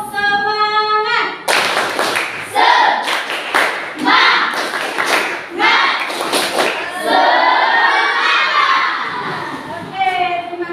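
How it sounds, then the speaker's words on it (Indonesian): Children in a classroom perform a rhythmic spirit clap, sharp patterned claps in quick bursts mixed with shouted chanting, loud and close, with singing voices at the start and end. "Tepuk semangat."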